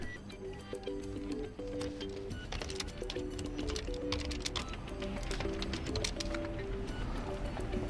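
Quiet, rapid keystrokes on a Dell Latitude 3520 laptop keyboard as a new device name is entered, a steady run of close clicks over faint background tones.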